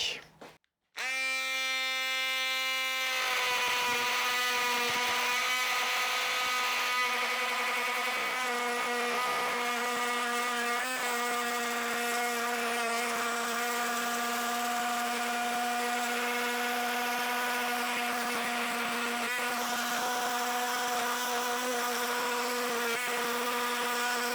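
A FERM 12V oscillating multi-tool blade cuts 2 mm metal, giving a loud, steady high-pitched buzzing drone with strong tonal whine that continues without a break after a short start-up.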